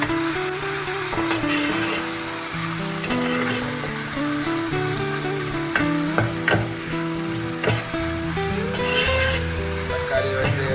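Tomatoes, onions and green chillies frying in oil for crab curry, a steady sizzle with scattered stirring knocks, partly under a layer of background music.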